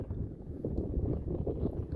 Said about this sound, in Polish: sorry za wiatr